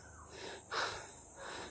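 Heavy, close breaths after a climb up to Callejon Falls in Malvar, Batangas: three breathy pants with a sharper gasp in the middle, quiet and with no talking.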